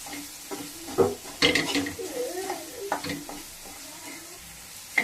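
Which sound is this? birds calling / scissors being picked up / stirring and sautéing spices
stirring and sautéing spices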